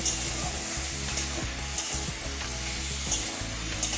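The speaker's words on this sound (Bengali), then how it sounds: "এবারে ডালের সাথে আমি ভালো করে কষিয়ে নেব।" Spice paste is fried with moong dal in a pan, a loud, continuous sizzle with stirring scrapes at close range throughout and no voices.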